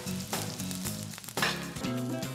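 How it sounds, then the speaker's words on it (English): Onions sizzle loudly in hot bacon fat in a pan on the fire, a close, dense frying hiss with a few stirring bumps. "We're gonna cook the onions right in there"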